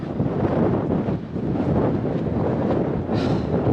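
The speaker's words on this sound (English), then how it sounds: "Just a little bit windy." Strong wind roars steadily across a mountain ridge on the Pacific Crest Trail, buffeting the microphone throughout, with a brief gustier rush near the end.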